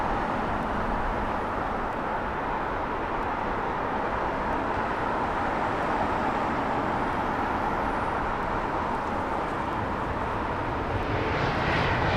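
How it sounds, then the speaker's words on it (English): A Scandinavian Airlines A320neo arriving from Stockholm lands on the northern runway at London Heathrow, a broad steady jet roar holding at moderate loudness throughout with no voices. "next to land here on the Northern Runway, in from Stockholm on an A320neo"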